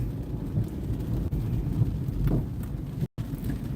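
Steady rain falls outdoors along a residential street, a continuous, fairly loud hiss that holds evenly from start to finish with no voices.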